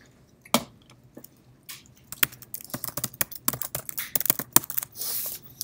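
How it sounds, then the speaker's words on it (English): Typing on a computer keyboard while entering a first C++ program in a text editor: rapid, irregular clicks and key taps, sparse at first and then dense and continuous, close and clear, with no talk. "now I can start typing in my first C++ program."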